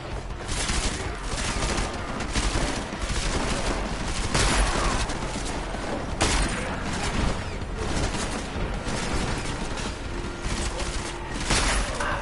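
Rapid shotgun fire in Deus Ex: Mankind Divided, a dense, loud run of booming blasts over a constant din of game combat, heavy and unbroken throughout.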